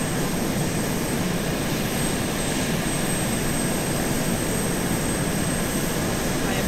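A warplane engine in ARMA2 roars loud and steady during a steep nosedive. The sound is a constant broadband rush that never lets up.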